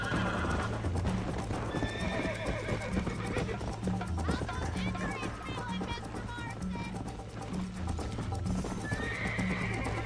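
Horse in the Red Dead Redemption video game galloping with steady clip-clop hoofbeats and a whinny, loud and continuous with game music and voices talking over it.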